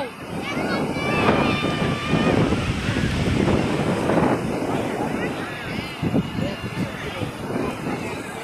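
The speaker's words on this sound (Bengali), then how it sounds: "গাইস কি ঢেউ!" Sea waves surge at crowded Digha beach, a loud continuous wash of surf mixed with heavy wind buffeting the microphone, while people talk and call out nearby.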